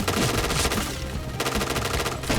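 Sustained automatic TD7 gunfire from an enemy in a Point Blank (PB) shooter game, rattling in fast, dense bursts with a brief dip in the middle before resuming, loud and close.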